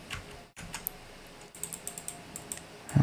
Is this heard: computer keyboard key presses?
yes